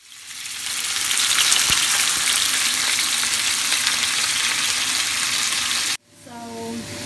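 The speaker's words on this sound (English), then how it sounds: "Tonight we're gonna cook minced beef with vegetables" Minced beef fries in a hot pan with a loud, steady, close-up sizzle that hisses without pause for about six seconds, then cuts off abruptly and leaves a quieter tail.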